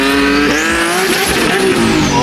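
Loud, close turbocharged Nissan 370Z engine roaring and revving at about half throttle, with a rising, rasping whine that swells and falls, no talking.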